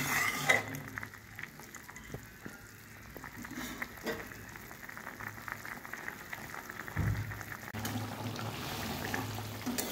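Reddish leafy greens sautéing in a pan, with a continuous soft sizzle and occasional utensil scrapes and knocks, close and moderately quiet throughout.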